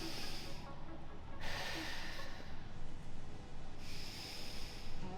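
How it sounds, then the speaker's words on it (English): A pregnant woman holding a static core exercise breathes audibly in three slow, hissing breaths, close to the microphone with soft rushing between them. "I could work on just breathing in this static hold."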